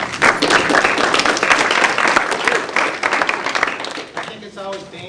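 A class applauds to welcome a guest lecturer at a college lecture, loud dense clapping that thins out near the end as a voice begins speaking.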